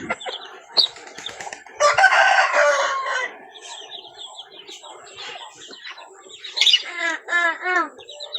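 A rooster crows outdoors, with hens clucking and small birds chirping around it; a fairly busy farmyard scene at moderate distance.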